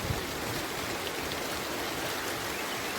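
Light rain falling on a road at night, an even, soft hiss of drops that holds steady throughout with no voices.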